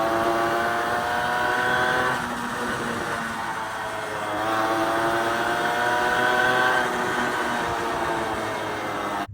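A Suzuki Quadsport LT80 ATV, its once-stuck small engine now running, buzzes loud and close, rising and falling through several revs over the whole stretch with no talk.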